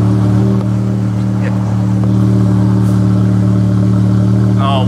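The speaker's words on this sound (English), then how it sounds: "first cold start with an Eisenmann RACE exhaust." A BMW M5 with its V10 engine, fitted with an Eisenmann race exhaust, fires up from cold and settles into a loud, steady, deep idle rumble close by.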